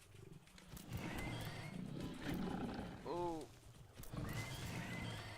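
A brief squealing animal call from a hog creature in the video game Satisfactory rises over a rumbling, noisy game background, with a person speaking briefly nearby.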